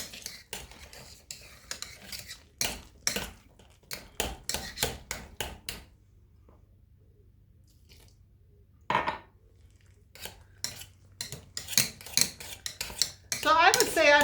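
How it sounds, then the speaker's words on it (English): Mashed potatoes being stirred with whole milk in a bowl, a utensil clinking and scraping in quick bursts, pausing once, then returning with wetter, busier stirring near the end. "See how as I'm mixing it, it's getting creamier and creamier?"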